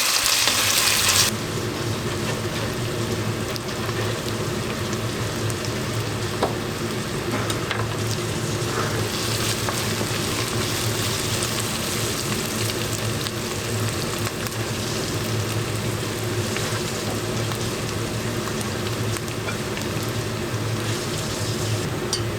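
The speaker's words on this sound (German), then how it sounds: "Da brate ich jetzt hier Zwiebeln und Knoblauch schön an." Onions and garlic frying in a pan for a garlicky tomato soup, a steady close sizzle with light stirring scrapes running throughout, no voices.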